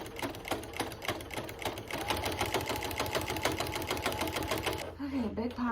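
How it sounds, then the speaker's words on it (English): A sewing machine top stitches a pocket onto a harvest apron, its rapid rhythmic needle chatter loud and close for about five seconds before stopping, with a voice heard briefly at the end. "we're just gonna top stitch it onto here"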